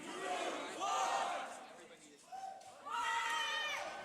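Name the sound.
crowd cheering at beatbox battle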